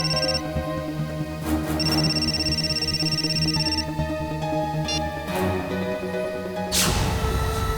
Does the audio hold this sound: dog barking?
no